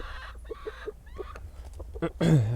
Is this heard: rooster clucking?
yes